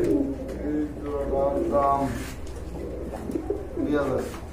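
Pigeons at a sale of colourful breeding pairs coo in soft repeated throaty phrases, close by, with people talking intermittently around them.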